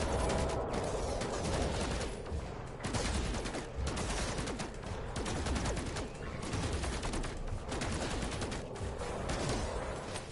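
Sustained rapid gunfire from a sci-fi weapon in No Man's Sky, steady and loud across the whole stretch with dense overlapping shots and few pauses.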